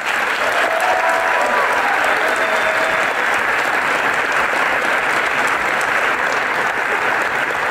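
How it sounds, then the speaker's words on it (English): Dense, sustained applause from a large festival audience at Cannes welcoming a host on stage, loud and continuous for the whole stretch with a faint crowd murmur beneath. "je vous remercie d'accueillir et d'applaudir Didier Allouche"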